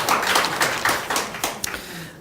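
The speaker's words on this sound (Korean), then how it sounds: "우리 성가대 대원들에게 우리 따뜻한 사랑의 박수로 한번" A church congregation at a Sunday service claps warmly for the choir, a mass of hand claps with a few sharper individual claps standing out, tapering off toward the end.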